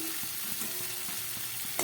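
Constant bright sizzle of spice paste frying in hot oil, with a few soft scraping stirs and a sharp clink near the end.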